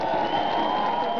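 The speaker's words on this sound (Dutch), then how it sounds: "Geef een applaus." A crowd at a rally in the Netherlands applauds, a brief continuous wash of clapping with some cheering, steady and fairly loud throughout.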